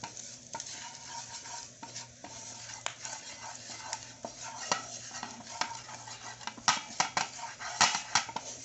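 Whole spices stirred around a hot pan for a samosa filling, with steady scraping strokes and a light sizzle running throughout at close range, no voices.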